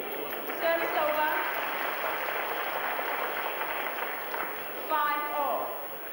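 Partisan crowd cheering at a 1988 Badminton Grand Prix Finals women's singles match in Hong Kong, a broad sustained roar of voices with swells near the start and again near the end, a commentator's voice running faintly over it.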